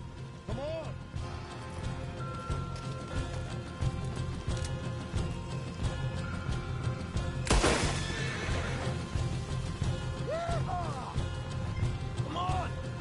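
Horses whinny and neigh several times in the video game Red Dead Redemption 2, shrill rising calls repeating over a busy background of hooves, movement and distant voices.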